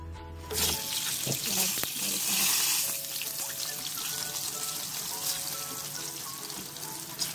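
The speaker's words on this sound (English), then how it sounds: "So, let's double fry the pork." Pork belly being double fried for crispiness, a dense, continuous hiss of bubbling oil that swells loudly after a quiet start and then holds steady, with faint clinks and a voice in the background.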